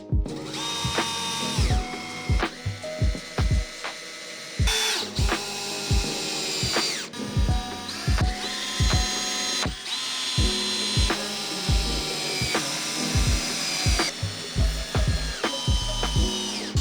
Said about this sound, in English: my tabletop came with pre-drilled holes, so all I had to do was just drill and secure